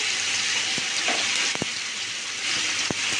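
Chicken pieces sizzling in butter on a hot grill pan, a steady close hiss of frying with a few clinks and taps of utensils against the pan.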